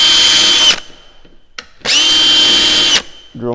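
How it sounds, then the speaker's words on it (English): Power drill boring holes for door hardware, two loud sustained whining bursts separated by a short pause with small clicks, close by and without talk. "Drill my holes."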